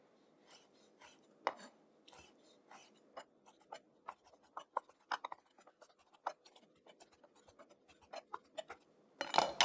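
A knife roughly chops pitted Kalamata olives on a cutting board, giving irregular, quiet taps and clicks in uneven bursts, close up with no talk.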